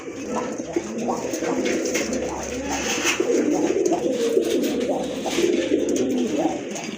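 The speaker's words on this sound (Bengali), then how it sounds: "আরেক জোড়া কবুতর দেখেন খুবই সুন্দর খুবই অ্যাক্টিভ আর ফ্রেশ কবুতর" Pigeons, a pair of fancy birds kept for sale, coo in low repeated rolling phrases, close and steady, amid other birds calling in the background with no speech.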